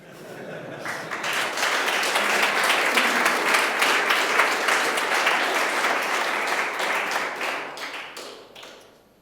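Conference audience applauding after a technical talk at Mendix World 2016, a dense, steady wash of many clapping hands that swells in, holds for several seconds and thins toward the end.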